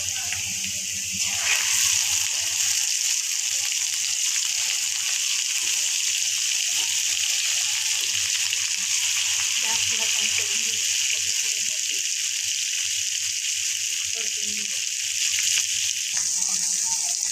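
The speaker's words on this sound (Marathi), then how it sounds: "भरलेली वांगी तेलात सोडूया." Stuffed brinjals sizzle in hot oil along with red chilli powder, vegetable masala and bay leaf. A broad, even hiss runs throughout as a steady wash with little variation, and no voices are heard.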